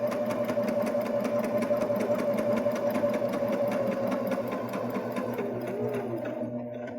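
A Baby Lock Jazz II sewing machine stitches a bar tack on a button, a close, fast and evenly pulsing run of needle strokes that slows slightly near the end.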